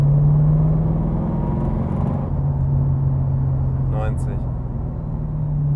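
A Subaru BRZ with an LS3 V8 engine swap pulls in fourth gear, its deep engine drone steady and loud from inside the cabin, while someone talks over it.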